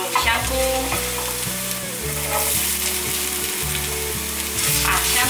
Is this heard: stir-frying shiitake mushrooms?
yes